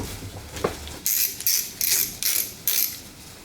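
Five quick ratcheting bursts from a torque wrench tightening head bolts on a Triumph Spitfire engine during a head gasket replacement, close and crisp, each click-run separated by short pauses, with no talking.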